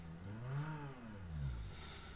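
Simulated engine in the Electude engine management simulator revs up and falls back twice, rising and sinking pitch in a faint, thin tone with no talk.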